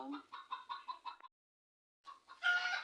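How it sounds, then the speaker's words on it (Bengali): A hen that has just laid an egg clucks in a quick run of rhythmic calls, falls silent, then breaks into a louder, rougher cackle, heard nearby without talk. "এমনি ওই যে ডিম পেড়েছে মুরগিতে, দেখো তো।"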